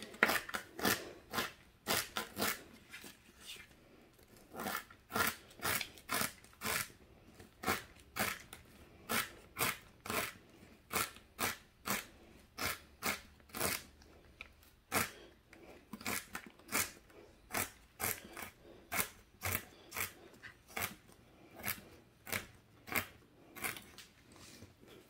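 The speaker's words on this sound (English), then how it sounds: "I'm just going to chop some celery, and then green onion and red onion" Celery, green onion and red onion chopped on a board, a close run of crisp knife strikes in quick bursts of steady rhythm, broken by short pauses, with no talking.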